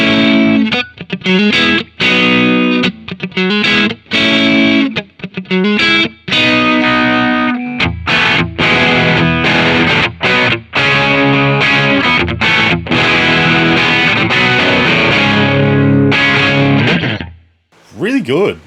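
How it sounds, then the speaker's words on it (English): A Stratocaster on its neck pickup, run through a plexi amp simulation with vintage EQ and an LA2A compressor, plays loud, crunchy chord stabs and sustained riffs with short gaps between them, then fades out at the end. "the Strat on the neck pickup going through a plexi with a vintage EQ and an LA2A compressor on it"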